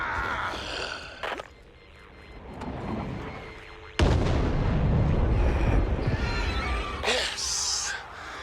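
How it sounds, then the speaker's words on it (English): Fireworks explosions boom in the video game Back 4 Blood, a loud sustained barrage of deep blasts and crackling bursts, with a sharp burst partway through and heavy rumbling after. "showed us his rip-off fireworks show"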